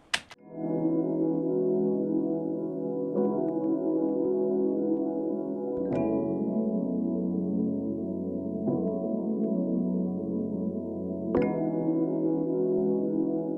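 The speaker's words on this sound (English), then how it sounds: "we had these Rhodes that were played in by G, and that's really the main foundation of the beat" Mellow Rhodes electric piano chords in G ring out with sustained, warm tones, with new notes struck every few seconds and left to fade, alone with no voices.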